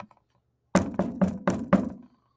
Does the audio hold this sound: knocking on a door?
yes